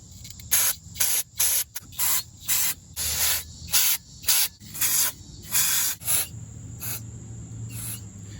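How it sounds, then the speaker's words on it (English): Brake cleaner sprays in about ten short, sharp bursts in a quick, fairly even rhythm, close by, then a couple of softer final squirts, during rear brake pad replacement on an Infiniti M/Q70. "I just spray it onto paper towel and then wipe it around"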